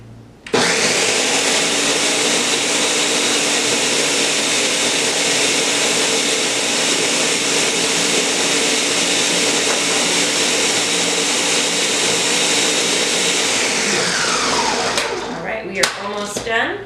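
A Ninja blender whirs at high speed, blending pesto while olive oil streams in, a steady loud roar held for about fifteen seconds before winding down abruptly, with a few clatters as it stops.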